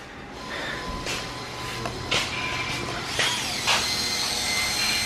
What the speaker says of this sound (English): she's still drilling that hole